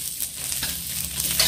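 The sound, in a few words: stir-frying fried rice with cabbage and garlic in a wok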